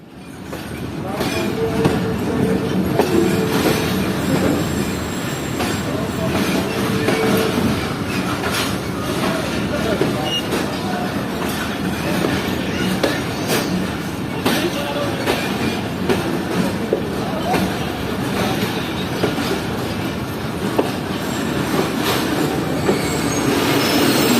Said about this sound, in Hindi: हमारी ट्रेन 2 मिनट रुकने के बाद निकल रही है नवाबशाह रेलवे स्टेशन से